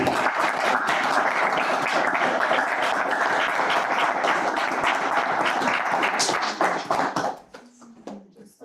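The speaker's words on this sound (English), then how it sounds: "we're going to have another round of applause" House concert audience applause, a loud, dense burst of many hands clapping for about seven seconds before it drops off abruptly into scattered claps and a brief voice.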